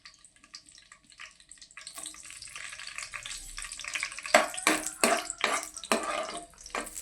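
Green chillies go into hot oil in a pan: quiet at first, then a rising sizzle that breaks into several loud, spitting bursts before easing off, with no one talking.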